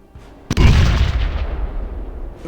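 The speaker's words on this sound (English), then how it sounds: "Another grenade!" A grenade explodes in the Fallout Tactics video game, a sharp loud blast followed by a long rumbling decay, with no talk over it.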